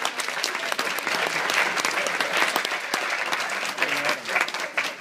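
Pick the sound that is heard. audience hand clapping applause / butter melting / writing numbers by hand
audience hand clapping applause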